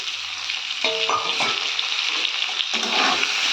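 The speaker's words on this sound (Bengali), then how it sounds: "একটু ভালোভাবে ভেজে নেব।" Potatoes fry in a pan with onion and tomato, giving a close, steady sizzle. Brief clinks and scrapes of stirring break in partway through, and there is no talking.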